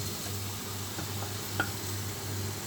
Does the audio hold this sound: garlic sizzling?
yes